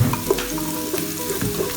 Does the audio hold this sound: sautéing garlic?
yes